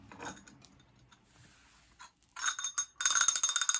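A small bell rings in a few quick bright bursts near the end, preceded by faint handling noises in a quiet room.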